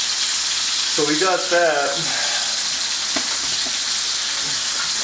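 Meat for tamales sears in a hot pan with a steady, close, loud broadband sizzle that runs unbroken throughout, while someone speaks briefly near the start over the frying hiss.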